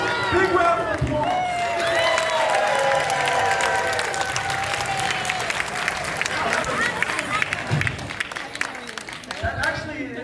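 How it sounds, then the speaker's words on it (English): A theater audience at a horror movie spook show bursts into loud applause with cheering and whoops, dense clapping that swells then thins over ten seconds, with voices shouting over it near the start. "Big round of applause."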